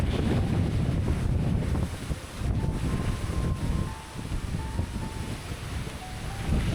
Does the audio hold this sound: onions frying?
no